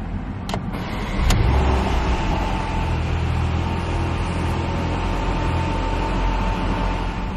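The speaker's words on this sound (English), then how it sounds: "twist the key fob, the built-in key fob to start." A 2019 Porsche Macan started with its keyless twist-start fob: a couple of soft clicks, a quick crank catching into the engine, then a steady close idle rumble.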